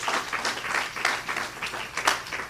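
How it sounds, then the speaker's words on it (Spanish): A church congregation claps and applauds together, a brief burst of scattered, moderately loud claps from a crowd. "Denle un aplauso al Señor"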